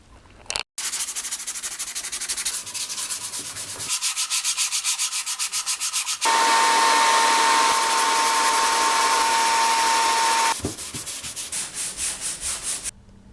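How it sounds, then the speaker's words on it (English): Bursts of power sanding on bare wood of an antique dental cabinet, with a steady loud stretch of continuous abrasive whirring in the middle and shorter rhythmic passes at either end, no talk. "These have all been sanded down."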